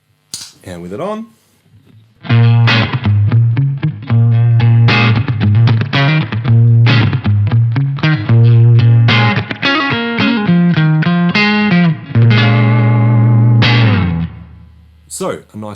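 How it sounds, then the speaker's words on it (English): Electric guitar played through a Keeley Omni reverb pedal on its spring setting: strummed chords and picked notes ring continuously and loud, with a splashy, wobbly spring tail trailing each phrase. "a nice little fun spring reverb sound there"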